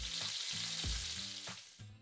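Stuffed eggplants frying in hot oil in a kadai give a soft, steady sizzle with a few low knocks and thuds as pieces go in, quiet and close.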